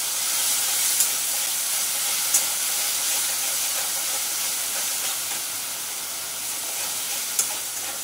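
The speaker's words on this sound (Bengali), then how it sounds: "আমি এখন একটু জল দিয়ে মশলাটাকে কষাবো।" Spices fry in a pan after water is added, giving a steady close sizzle and hiss with a few faint clicks of stirring throughout.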